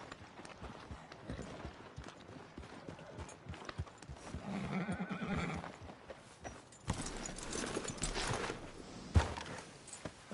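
Horses at stables in the video game Red Dead Redemption 2: faint hoof clip-clop and shuffling with a brief whinny, over quiet ambient noise.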